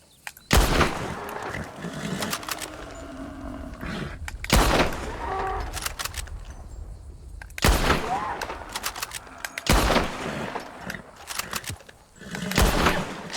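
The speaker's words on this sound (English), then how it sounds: "Wow, the bullets." Gunfire at a Brandywine battle reenactment, loud bursts of shots fired in volleys at irregular intervals, some close and sharp with rolling echoes, with faint voices in between.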